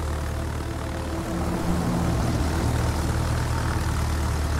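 A propeller plane in the video game World of Warships drones steadily with a continuous engine roar, close and loud throughout with no break.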